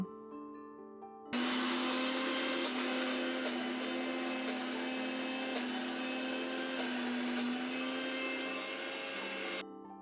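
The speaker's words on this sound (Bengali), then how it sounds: "এখন আমি এটা মিক্সি করে নেব" An electric kitchen mixer grinder whirs as it grinds raw green peas with spices for a stuffed kachori filling. It starts abruptly, holds a loud, steady high-pitched motor drone for about eight seconds, then stops.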